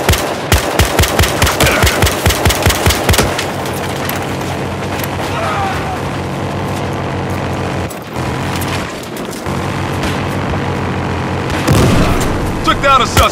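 A heavy gun mounted on an SUV fires in Battlefield Hardline, rapid loud automatic bursts giving way to sustained booming gunfire and explosions, with excited speech over the battle.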